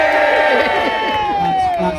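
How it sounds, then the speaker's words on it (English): A live audience at a Stirling walking event cheers and whoops for Burnsy in a short, loud burst of mixed crowd voices that stays strong throughout. "you're going to cheer if you want them to win the fight"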